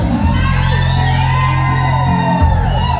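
A loud crowd whoops and shouts in a sustained, dense roar, with rising high-pitched cries over a steady low rumble.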